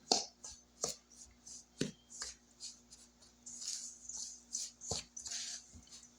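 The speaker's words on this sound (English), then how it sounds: "Break the yolk up a little bit." Two eggs being broken up and whisked in a bowl for homemade Mississippi dressing, with a run of sharp utensil clicks and taps against the bowl, close by and fairly quiet, no talk.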